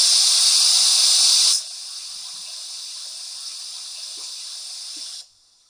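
A Bachmann Spectrum K4 4-6-2 PRR model locomotive plays its steam blower effect, a steady hiss that starts strong. It drops to a quieter continuous hiss after a second and a half, then cuts off.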